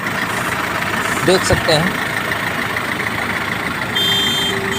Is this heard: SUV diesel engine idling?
yes